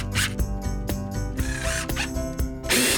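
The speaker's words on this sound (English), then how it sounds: "fasten a couple of hinges on the back and install our window on the top" Hinges being fastened onto a wooden greenhouse box produce quick, close ratcheting and whirring bursts from a driver, several short runs in a row with no talking.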